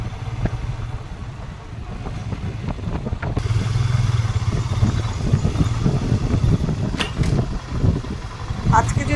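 A motorcycle rides slowly along a dark road at night, its engine rumbling steadily with a low drone, and wind and road noise rise as it moves, while a person talks over it.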